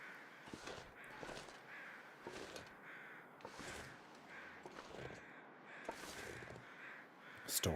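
A crow in the snowy wilderness survival game The Long Dark caws repeatedly at an even pace, about seven harsh calls over a low wind-like background, with no talk.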